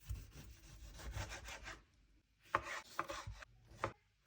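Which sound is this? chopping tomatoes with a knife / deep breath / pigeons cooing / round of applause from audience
chopping tomatoes with a knife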